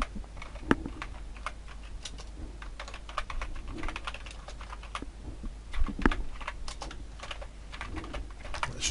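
Quick, light keystrokes on a computer keyboard as a few keywords are entered, close and crisp in irregular bursts with short pauses, no voices.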